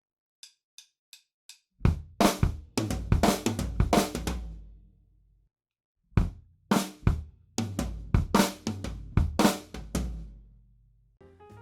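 Drum fill from a song, starting with a few soft clicks and then irregular, disjointed bursts of snare and tom hits with ringing decays, split by a short pause, played alone.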